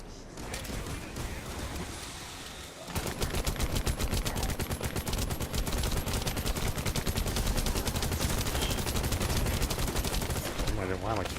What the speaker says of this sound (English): Why am I keep shooting at the thing?